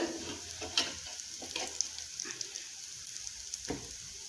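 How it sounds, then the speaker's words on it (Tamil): Rice cutlets made from leftover rice shallow fry in a little oil on a tawa, giving a soft, steady sizzle with occasional sharper crackles and pops. "நல்லா கிறிஸ்பியாக ஃப்ரை பண்ணி எடுக்கணும்"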